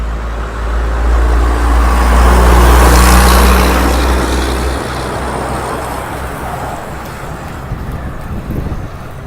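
A truck passes a cyclist on a road, its loud low engine roar and rushing air building to a peak and fading away, mixed with heavy wind buffeting on the microphone.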